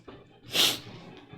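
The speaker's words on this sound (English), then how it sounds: "I'm gonna sneeze" A single sharp sneeze bursts out close by, preceded by a quick intake of breath, with no talking.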